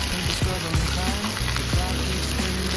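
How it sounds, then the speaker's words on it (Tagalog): Onions sautéing in olive oil in a pan, a loud, close, continuous sizzle and crackle of hot oil that stays steady throughout. "igigisa ko na ang ating sibuyas"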